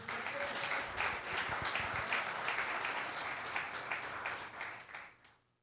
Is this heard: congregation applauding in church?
yes